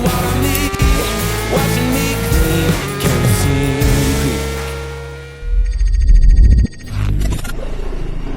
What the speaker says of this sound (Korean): 꽝 하는 그 RPM 소리가 가능한 게 바로 이 투스트로크 엔진이기 때문인 거죠